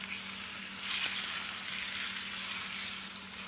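Roast beef browns in oil in a nonstick pan, giving a soft, steady sizzle that swells after the first second and holds at a low, even level without talk.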